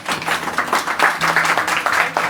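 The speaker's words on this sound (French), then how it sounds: "Je suis émue quand on applaudit Kevin parce que c'est ses premières assiettes" An audience in a small restaurant dining room applauds a young chef serving his first plates. The clapping is brisk and steady, close and fairly loud throughout, with faint voices mixed in.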